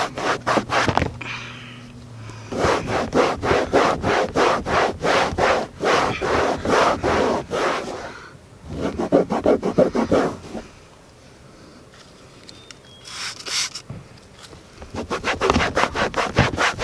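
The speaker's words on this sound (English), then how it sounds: "Really use the microfiber, rub in the cleaner." Leather being cleaned by rubbing cleaner in with a microfiber cloth: brisk, rhythmic back-and-forth scrubbing strokes in several long bursts with short pauses, close and fairly loud.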